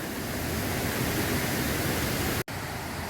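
The fourth tier of Chet Sao Noi waterfall roars steadily, a dense, even rush of falling water filling the scene without a break apart from one very brief dropout.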